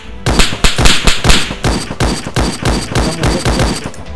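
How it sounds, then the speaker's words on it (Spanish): Rapid gunfire in the survival video game DayZ, a loud close burst of repeated shots in quick succession, steady and rhythmic for several seconds with almost no talk over it. "Estoy disparando."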